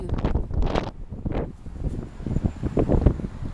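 Strong outdoor wind buffeting a tripod-mounted microphone, gusty low rumbling blasts that swell and fade continuously, loud and close throughout.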